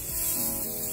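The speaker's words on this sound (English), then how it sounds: "So I'm spray painting these bases so that they could be white." A steady, close hissing spray from an aerosol spray paint can coating bases white runs continuously for about a second, broadband and even in loudness.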